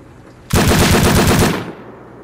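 Loud, close burst of automatic gunfire in the console survival game Rust, fired at a bear during a base raid defense, a continuous rattle of about a second that starts abruptly and then fades out.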